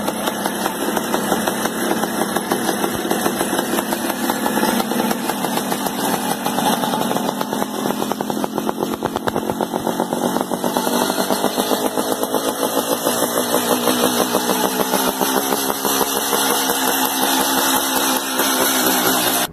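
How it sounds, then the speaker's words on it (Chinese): A chopper-style motorcycle engine idles steadily and loudly up close, a continuous rumbling throb with slight fluctuations throughout and no talking. "接下来大家听一下真实的疯狂麦克斯摩托声浪"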